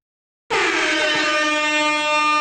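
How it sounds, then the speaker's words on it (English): A loud air horn blares suddenly after a moment of silence and holds one long, steady, brassy blast to the end. "blow some air horns for them"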